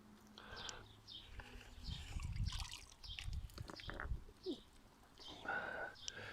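A potted garden plant lifted out of a tub of water sheds water that trickles and splashes back down in faint, uneven bursts, with a few louder drips and splashes.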